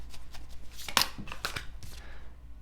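Tarot cards are shuffled close and fairly quietly, giving a run of soft riffling flicks and slaps with one sharper snap, heard alone over a low background hum.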